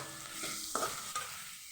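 Onion sautéing in a pan for a Kathiyawadi brinjal masala, a soft, low sizzle with a couple of brief stirring scrapes, close and quiet.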